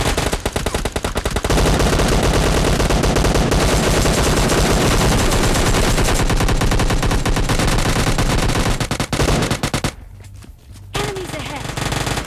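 Rapid automatic gunfire from a PUBG Mobile Lite match, loud and nearly continuous bursts filling most of the clip before cutting out, with the player talking over it.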